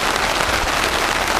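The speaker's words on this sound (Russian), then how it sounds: "И гроза, и дождь." Heavy rain pours down steadily during a thunderstorm outdoors by the Ozerna river, a dense, loud, even wash of drops with no thunder standing out.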